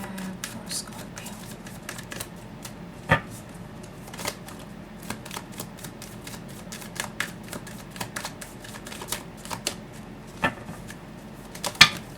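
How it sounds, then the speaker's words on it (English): A deck of tarot cards is shuffled by hand, with quick crisp riffles and sharp clicks at an uneven pace. A few louder slaps mark cards spilling out of the deck, all fairly quiet and close. "Oh, bunch of cards came out."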